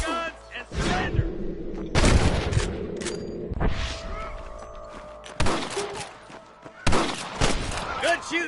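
Bursts of gunfire in a Wild West shootout from Red Dead Redemption, sharp loud volleys in several clusters separated by quieter gaps with voices and shouting between them.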